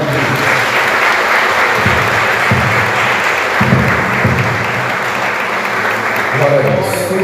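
Congregation clapping during an evening church service, loud sustained applause with low voices or instruments murmuring beneath and a brief change near the end.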